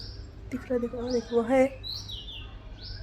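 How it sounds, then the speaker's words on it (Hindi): Small birds near an outdoor nest give several thin, rising and falling chirps, faint and scattered, while a person talks softly over them. "बाहर चिड़ियों की आवाज़ अच्छा आ रही थी।"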